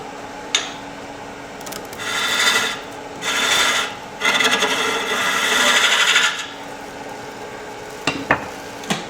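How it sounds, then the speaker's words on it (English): A spindle gouge cuts end grain on a spinning wood lathe, giving several rasping, scraping bursts of a few seconds each between quieter stretches of motor hum, with sharp knocks at the start and end. "I'll actually use the spindle gouge."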